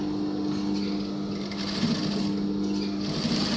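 A sewing machine stitches a shirt collar, running in a steady, continuous close whir with a fast mechanical hum throughout, loud and alone.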